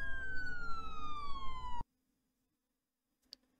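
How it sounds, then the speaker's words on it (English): A police siren in a Roblox video game wails with a falling tone for under two seconds, then cuts off abruptly into near silence with one faint click afterward. "Police sirens."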